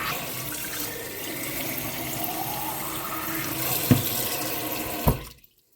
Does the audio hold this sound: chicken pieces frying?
no